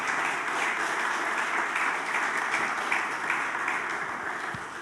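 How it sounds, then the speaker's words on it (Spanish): A church congregation at a Sunday morning service claps together, a sustained, even roar of many hands that holds for several seconds and eases off slightly at the end, with no talking over it. "¿Por qué no le das un aplauso al Señor en esta mañana?"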